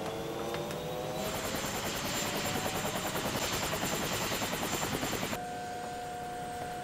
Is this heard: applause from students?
no